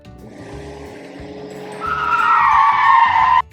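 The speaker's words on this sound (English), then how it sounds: "Car." Car tires skidding: an engine hum builds, then a loud, sustained tire squeal rises sharply and cuts off abruptly, heard alone without talking.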